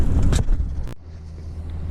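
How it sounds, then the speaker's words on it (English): A Cummins 6.7 diesel engine in a third-generation truck idles nearly warmed up, a steady low rumble. A sharp knock or thump briefly breaks in near the middle, and the engine then settles to a quieter, even idle. "We're just idling right now. Engine's almost warmed up."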